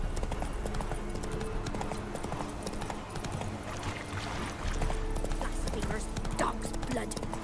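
Roach the horse galloping in The Witcher 3, a steady rapid clip-clop of hooves close by under continuous game sound, with a voice speaking over it.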